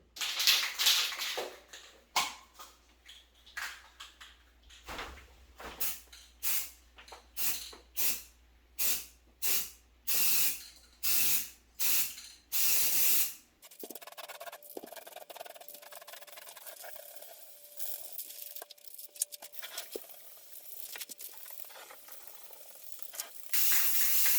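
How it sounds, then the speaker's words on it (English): A series of short, sharp aerosol spray paint bursts on a wall in an irregular rhythm, close by, followed by quieter background hiss and faint room noise. "I am done with the whole spray painting process."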